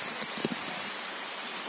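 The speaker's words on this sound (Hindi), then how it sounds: "बहुत जोरों की बारिश कर रही है बार" Heavy rain pours down steadily in a dense, broadband hiss with scattered drop impacts, heard from under a shed near a parked motorbike in the hills around a dam.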